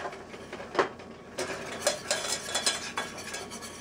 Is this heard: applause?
no